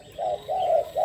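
A small caged bird gives three short, clear cooing or chirping calls in quick succession, close and fairly quiet against a near-silent background.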